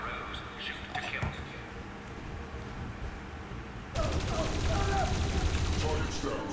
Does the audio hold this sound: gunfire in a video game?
yes